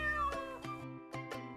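A cat meows a few times over light background music, the short cries fairly close and clear.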